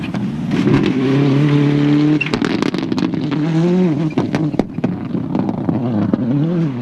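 Rally car on the Punchestown rally stage in 2002, engine loud and close with rising and falling revs, sharp gear-change bursts and tyre scrabble as it races past, continuous throughout.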